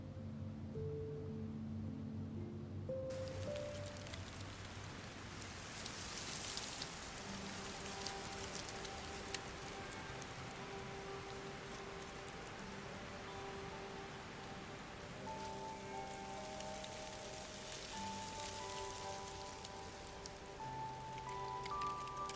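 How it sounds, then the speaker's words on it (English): Rain falls steadily on a surface in a scene from the video game Love and Deepspace, a dense continuous patter over soft background music that runs throughout with no pause. "Keep out of the rain."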